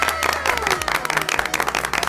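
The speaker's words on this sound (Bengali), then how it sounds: "হাততালি। হাততালি।" Clapping and applause from a small crowd at a Facebook meet-up, brisk irregular claps throughout with crowd noise mixed in.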